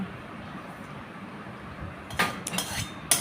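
Food is scooped from a cooking pan into a bowl: a quiet room tone gives way to a few sharp metallic scrapes and clinks of a utensil against cookware near the end.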